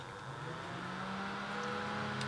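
A small electric fan spins up and runs steadily with a continuous motor hum and whirr that rises slightly, close and alone.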